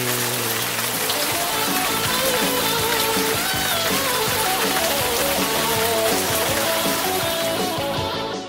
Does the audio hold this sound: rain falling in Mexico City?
yes